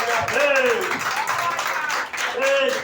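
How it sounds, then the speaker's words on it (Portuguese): A church congregation claps during an evening service, with rhythmic clapping mixed with singing voices and shouts running over it throughout. "E as palmas é para Jesus nesta noite."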